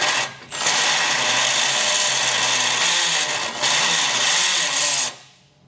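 A power tool enlarges a hole in a base plate for a 2021 Jeep Wrangler, running as a loud, sustained close-up whine. It dips briefly near the start and again midway, then winds down at the end.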